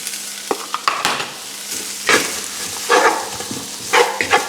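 Chicken sizzles steadily in a pan with fajita spice mix while a utensil stirs it, giving scraping strokes and bursts of crackle over a constant close frying hiss, with no talk.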